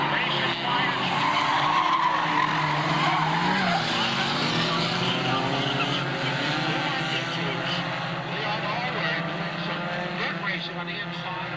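Honda race cars in a Warriors division field roar around the track with tires skidding, a dense continuous engine and tire noise that stays loud throughout, with a commentator talking over it.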